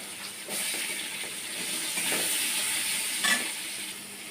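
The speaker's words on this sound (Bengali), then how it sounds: "তো প্রথমে মাছের ঝোলের আলুটা আমি ভেজে নেব" Potatoes for a rui fish curry fry in hot oil, giving a steady close hissing sizzle that swells a little as they are moved about, with one brief scrape and no voices.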